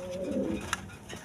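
Tiger golla giribaz pigeons, a large-sized pair, coo in a brief low murmur, with a soft click partway through; quiet and close, no talking.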